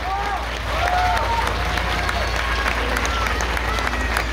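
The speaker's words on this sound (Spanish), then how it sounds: "con un fuerte aplauso a Karen Suárez" Audience applause greets Karen Suárez, the current Miss Petite Mexico 2021, at a beauty pageant: steady, fairly loud crowd clapping with a few cheers and voices, over a low hum.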